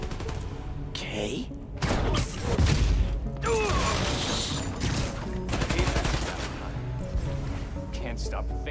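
Gunfire bursts and mechanical clatter in Spider-Man: Miles Morales, loud rapid volleys and crashes under spoken voices.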